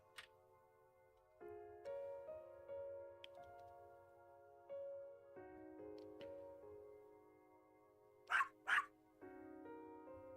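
A puppy barks twice in quick succession in the video game The Hundred Line: Last Defense Academy, sharp yips cutting through soft, sustained background music.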